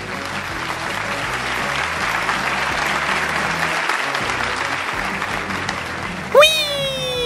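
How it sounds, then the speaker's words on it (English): Applause for Minecraft village builders, a dense crowd clapping continuously and loudly under electronic music, ending with a bright rising sound effect. "Let's applaud our builders."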